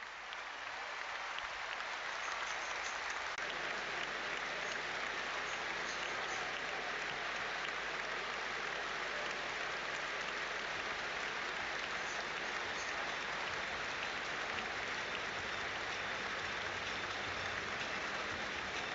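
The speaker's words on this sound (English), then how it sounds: "St James's Park, as you can hear, has just risen to applaud his remarkable life." A football crowd at St James's Park stands and applauds a tribute, producing a broad, steady roar of distant clapping across the stadium that continues unbroken with no talk over it.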